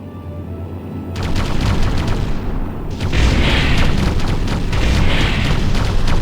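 Deep rumbling explosions and booming blasts fill the scene as an enemy Hoverdyne is destroyed in the Ground Control strategy game, loud and continuous with layered bursts.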